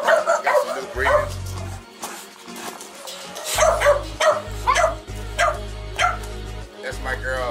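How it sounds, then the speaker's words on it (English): Several dogs in a breeding kennel bark and yip in bursts, some close and loud, with whimpering between barks and a person talking over them. "we got a few dogs back here"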